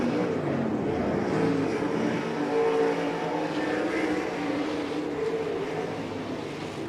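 RaceSaver sprint cars race nose to tail around Interstate Speedway, their engines a loud, continuous roar rising and falling as the cars pass, with no voices.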